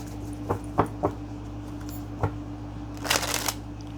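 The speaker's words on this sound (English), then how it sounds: "Let's pull some cards on these." Tarot cards are handled and shuffled in a few soft, brief riffles and taps, then a denser flurry near the end, close and quiet over a low steady hum, no speech.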